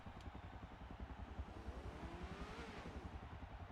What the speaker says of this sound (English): All right, we hear the revving of the engines.